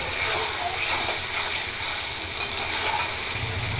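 A curry fries and is stirred in a pan, giving a steady close sizzle and hiss with faint scraping from the stirring throughout.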